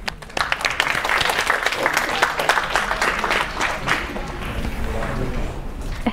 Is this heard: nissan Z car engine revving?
no